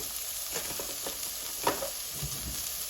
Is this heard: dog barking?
no